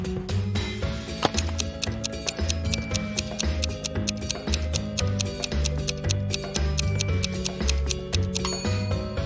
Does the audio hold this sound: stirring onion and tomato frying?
no